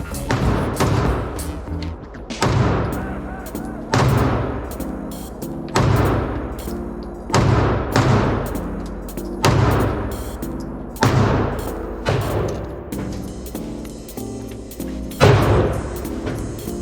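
Repeated loud shots from a SIG Sauer P365 9mm subcompact pistol, about nine evenly spaced reports roughly two seconds apart, each a sharp crack with a short decaying tail, with no talk.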